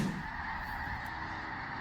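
A vast flock of snow geese honks over a quiet forest lake, a dense continuous chorus of overlapping calls from many birds, steady and moderately loud with no voices.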